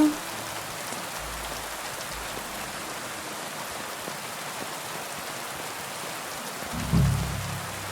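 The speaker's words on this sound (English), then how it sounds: "It's raining a lot." Steady heavy rain in a video game forest hisses across the whole clip, a dense continuous wash of drops, with a brief low rumble near the end.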